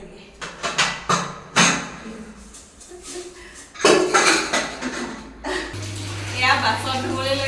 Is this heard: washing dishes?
yes